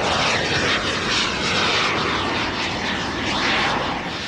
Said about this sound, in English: Each of these little engines puts out 45 pounds of thrust, and they only weigh about 5 pounds.